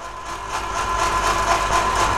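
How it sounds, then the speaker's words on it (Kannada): A 4 HP motor on a Chinese-made construction lift drones steadily as it hauls a load, a close, even mechanical whine with no voices. "ನೋಡ್ಬೋದು ಮಿಷಿನ್ ಎಳಿತಾ ಇದೆ. 4 HP ಮೋಟಾರ್."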